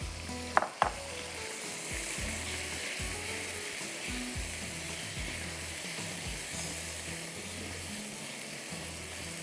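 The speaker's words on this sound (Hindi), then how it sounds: "तेल गरम करके हम चिकन को पैन फ्राई करेंगे।" Marinated chicken pan-fries in hot oil, a loud continuous sizzle with stirring scrapes and a couple of sharp utensil clanks near the start.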